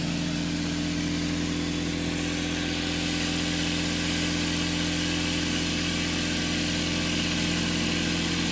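An Adams motor spins steadily at around 2500 RPM, giving a loud, continuous mechanical hum and whine at constant pitch throughout, close up with no speech.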